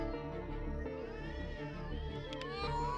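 Cats meowing in the video game A Space for the Unbound, several drawn-out, wavering meows overlapping against a sustained tonal background.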